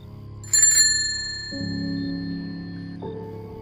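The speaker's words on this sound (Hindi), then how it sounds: "एक साइकिल की घंटी की आवाज़" A bicycle bell rings in a quick burst of bright, metallic trills, followed by sustained lower tones that hang and shift in the background.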